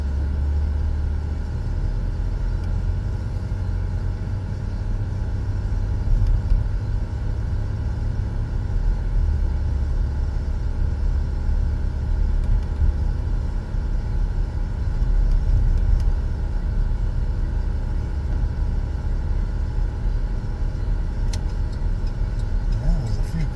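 Cars at a hot rod show at a fairground idle and rumble in a steady, continuous low drone that stays fairly even throughout, heard from some distance with no clear talk.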